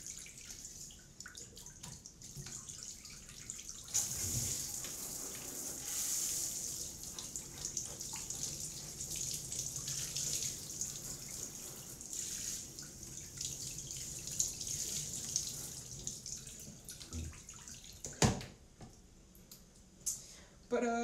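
Shower water runs steadily in a bathroom, a constant hiss with occasional drips and knocks, and a sharp clatter near the end.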